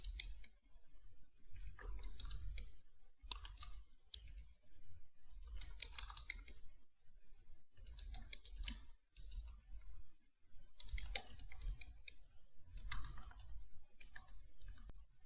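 Steady typing of HTML code on a computer keyboard, close and clear, with bursts of rapid key clicks broken by short pauses, and no talking.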